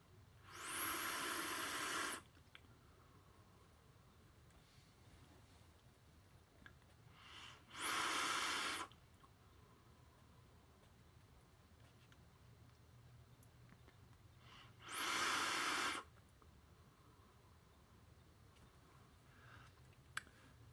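Three long broadband hissing draws on a Druga RDA rebuildable dripping atomizer fired at 110 watts with the airflow fully open, each lasting about two seconds and separated by quiet pauses, close to the microphone with no talking.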